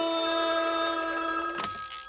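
A telephone bell rings steadily and fairly loud for about a second and a half, then cuts off, followed by a faint trailing tone.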